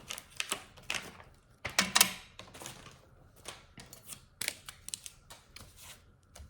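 Scissors cutting paper for a handmade 3D polar bear card, giving a series of short, crisp snips in an irregular rhythm, close and fairly quiet, with no talking.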